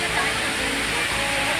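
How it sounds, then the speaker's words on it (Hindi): Waterfall dropping from a height at the Jatmai Ghatarani temple site in Chhattisgarh, a steady broadband rush of falling water that stays loud and constant throughout, with no clear gaps. "झरना बुहात है, ऊंचाई से गिरत है।"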